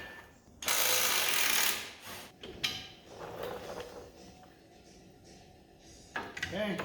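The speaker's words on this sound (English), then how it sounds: "I'm gonna pull that shock off here" A shock absorber is pulled off a 2008 Can-Am Outlander ATV during swing arm bearing work, with a loud burst of hissing air or scraping followed by scattered metallic clicks and clunks nearby.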